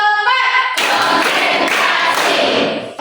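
A group claps together in a quick rhythmic burst after a brief tonal chime, sharp overlapping claps filling the space, loud and close.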